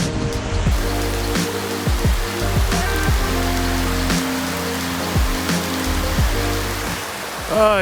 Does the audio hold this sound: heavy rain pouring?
yes